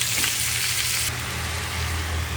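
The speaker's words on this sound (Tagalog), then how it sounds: "Kailangan natin gisahin mabuti ang ating chicken." Chicken sizzles steadily as it is sautéed in a pan for chicken kaldereta. The frying hiss is loud and continuous, with some stirring, and no one speaks.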